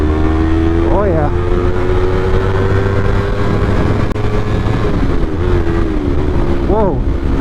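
A motorcycle fitted with a newly installed aftermarket exhaust drones steadily while riding, with rising revs at a couple of points and wind noise throughout.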